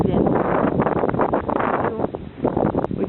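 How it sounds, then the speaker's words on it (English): Strong gusty wind batters the microphone outdoors at a haunted house attraction, a loud rumbling buffet that surges and dips in waves over about three seconds. "We do live in a very windy area"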